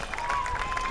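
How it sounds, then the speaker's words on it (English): At a high school football game, a crowd in the stands applauds the Cyclones as the team takes the field. It comes across as a brief, steady roar of distant clapping and crowd noise with a thin sustained tone over it. "You hear the applause, a good crowd on hand to support these Cyclones."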